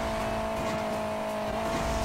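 A buggy driving in Hill Climb Racing 2, its steady engine drone holding a constant pitch with faint tire noise underneath, loud and uninterrupted.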